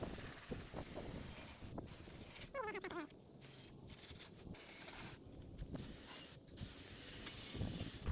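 Water sprayed from a hose onto ceramic-coated car wheels and tires: a broad, steady hissing spray with a few brief pauses and bursts, fairly close, with no talking.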